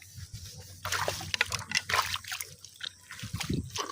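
Water trickling and sloshing out of a dug hole while fish are dug out, with irregular close splashes and drips in short bursts over faint background noise.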